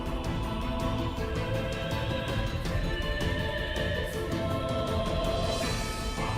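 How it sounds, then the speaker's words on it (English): Dense video game music plays continuously at even loudness, with an arpeggio of quick descending and ascending single notes woven through a constant, energetic loop. "what you're hearing is an arpeggio, that little descending and ascending single note stuff"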